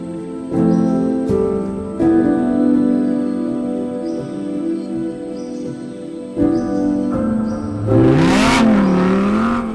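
Custom-prepared cars driving on icy, snow-covered roads toward Arjeplog in Lapland, with a loud, steady engine drone that rises and falls with revving, plus a sharp whoosh near the end.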